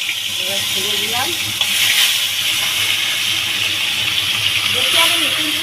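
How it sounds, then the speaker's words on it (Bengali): Pangas fish pieces dropped into hot oil in a home kitchen set off a loud, continuous crackling sizzle, with a few brief voices rising over the frying. "তেল পুরো তেল গরম হয়েছে, এবার ছেড়ে দিলাম"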